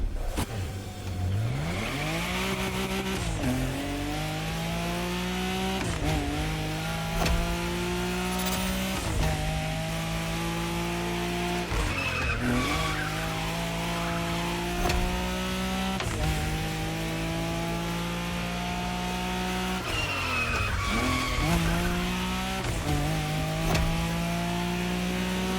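A Nissan Skyline racing in The Crew Motorfest on a Tokyo Bayshore highway route, its engine loud and constant, revving up through repeated gear shifts with rising and falling pitch and no voices over it.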